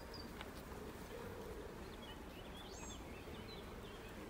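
Honeybees hum in a continuous, close, droning buzz at an opened beehive in an apiary, with a few brief higher whines of bees flying past.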